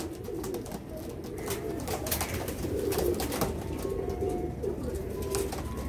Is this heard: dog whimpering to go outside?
no